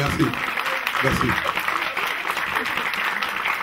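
A TV studio audience claps in a lively, uneven patter, with voices speaking over the applause as it carries on.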